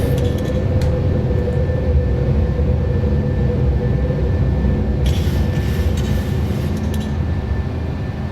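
Boeing 737-800 climbing after takeoff from Edinburgh, heard from inside as a steady, loud, broadband jet engine roar with a constant drone that holds throughout, plus a few faint clicks partway through.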